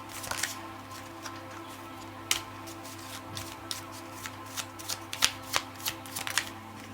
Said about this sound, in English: I'm pulling out some Lenormand cards firstly.